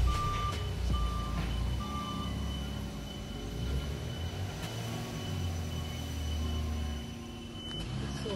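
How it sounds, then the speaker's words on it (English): An automated guided vehicle truck at a loading site where skids are plastic-wrapped and tarped keeps up steady repeating reversing beeps over a continuous low machinery rumble. "Now the truck is going underneath that tarp."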